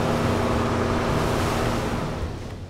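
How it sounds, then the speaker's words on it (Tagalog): Strong, high ocean waves rush against a ship during a six-hour sea crossing from General Santos City, a loud, steady broadband roar with engine hum underneath that fades slightly toward the end. "Hindi biro, malalakas at matataas ang mga alon."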